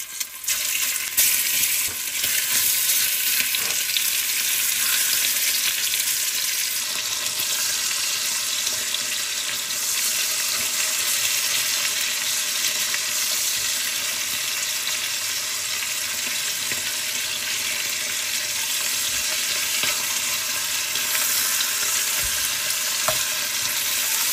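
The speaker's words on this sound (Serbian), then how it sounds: "I propržit ću meso sa svih strana po 1 minut da uvati lepu koricu." Pork neck sears in hot oil in a pot, with a loud, continuous close-up sizzle and crackle that holds steady throughout, with no voices.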